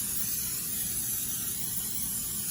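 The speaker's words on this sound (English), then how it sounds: "Spraying it with nonstick spray." A steady, close hiss of nonstick cooking spray onto a baking pan running for a couple of seconds without a break.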